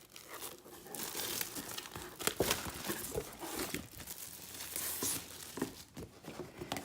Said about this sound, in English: it's called galvanized metallic paper